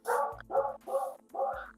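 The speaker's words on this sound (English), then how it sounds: "Pardon my barking dogs in the background." Four loud dog barks in quick succession, close and evenly spaced, each a full-throated bow-wow with no talking over them.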